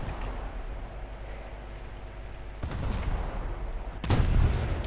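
Naval guns fire at a boat in War Thunder, with heavy booming reports and sustained rattling gunfire. The shots come in loud bursts that swell partway through and peak near the end, with no talking.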